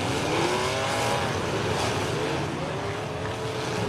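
A demolition derby race car engine at Derby Park, a steady loud engine drone with wind-like noise throughout, while a commentator talks over it.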